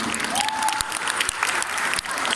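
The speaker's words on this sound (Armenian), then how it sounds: "Ծափահարենք Մարիամի" An indoor audience applauds the leader of a folk dance ensemble, a dense burst of clapping lasting a couple of seconds, close and steady with a faint voice briefly underneath.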